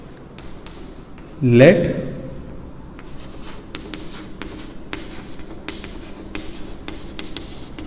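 A pen scratches out a Class 10 coordinate geometry solution in quick, repeated strokes, close and crisp, while someone speaks briefly at the start.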